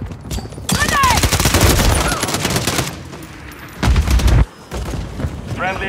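A Call of Duty Modern Warfare 3 multiplayer match with dense overlapping automatic gunfire and sharp cracks, broken by a loud grenade blast near the end, while in-game voices shout over the fighting.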